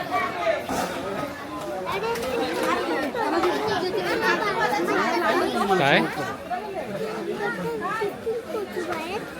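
Dense crowd of pilgrims chattering at the Ekvira temple, a steady close babble of many overlapping voices with some children among them, loud and continuous throughout.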